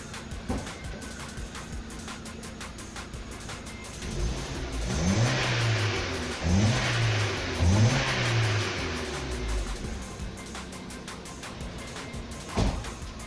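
A car engine with taped-over exhaust idles roughly, then revs up three times in quick bursts before settling back, with popping, spitting exhaust noise throughout.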